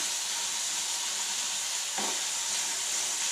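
Small bitter gourds frying in a pan over a medium flame, giving a steady, loud sizzle and hiss throughout, with a brief stir or clatter about two-thirds of the way in.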